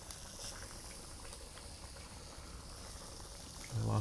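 Spicy soft tofu stew (soondubu) bubbles and sizzles in a pot, a continuous soft crackling boil heard up close, with a brief louder bump near the end.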